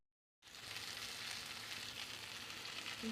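Ridge gourd fries in a hot pan for a village-style Odia fish curry, the steady close sizzle starting abruptly after a brief silence and continuing without talk.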